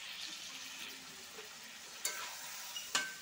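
Marinated meat stirred in a frying pan, a soft steady sizzle with faint scraping of the spoon and two sharp clinks near the end, quiet and close with no talking.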